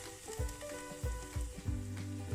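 Onions and garlic fry in a pan, giving a low, constant sizzle while a spatula pushes them around in a few dull, rhythmic scraping strokes.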